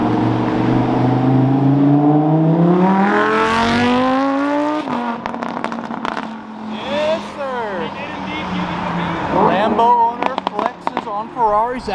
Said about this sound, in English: we can hear those beautiful Ferrari engines screaming